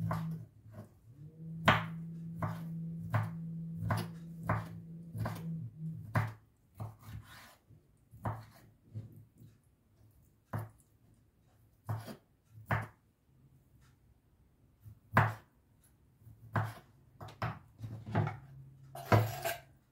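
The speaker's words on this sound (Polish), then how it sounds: "pokroimy sobie ananaska na takie mniejsze kawałki" A knife chops pineapple into small pieces on a board. Sharp, uneven taps come close and clear, with short pauses, bursts of rapid chopping and a faint hum underneath.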